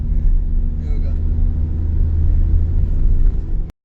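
Inside a car travelling by road from Mumbai to Chiplun, a steady low engine and road rumble fills the cabin without a break, then cuts off abruptly near the end.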